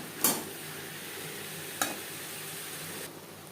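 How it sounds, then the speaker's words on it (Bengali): Diced eggplant frying in oil makes a soft, quiet sizzle, with two sharp clatters of a spoon against the pan as it is mixed and the sizzle dropping lower near the end. "তেলের সাথে বেগুন বেশ ভালো করে মিক্স করে দেবো"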